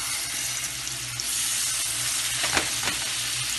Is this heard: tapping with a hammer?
no